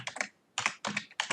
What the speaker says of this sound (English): Gosh, my typing is awesome.